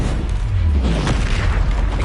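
A Bombarda blast spell from Hogwarts Legacy lands as a loud, deep boom, its low rumble swelling and holding over about two seconds amid dense game noise.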